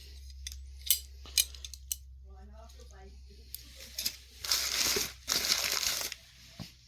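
Paper wrapping is pulled off the parts of a vintage Trangia Storm Cooker, a size 25 stove set with pot lifter, giving sharp crinkles and clicks that swell into two louder bursts of rustling, close by.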